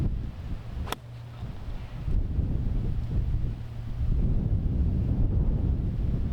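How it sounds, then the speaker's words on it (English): Strong wind sweeps across a golf course at Marcus Pointe Golf Club, a loud, steady rushing roar with buffeting gusts against the microphone that builds stronger near the end, with no one talking. "There's just so much wind"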